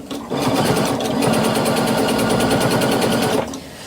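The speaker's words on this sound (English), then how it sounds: "Stitching along the bottom." A sewing machine stitches along the bottom of a quilt layered with polyester low-loft wadding, a loud, close, rapid mechanical chatter running steadily for about three seconds before stopping.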